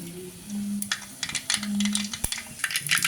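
Mustard seeds dropped into hot oil for a country chicken curry, crackling and popping in scattered bursts with sharp clicks and a steady hiss, close and fairly loud.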